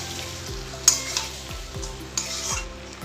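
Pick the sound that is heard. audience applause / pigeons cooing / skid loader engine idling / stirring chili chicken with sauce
stirring chili chicken with sauce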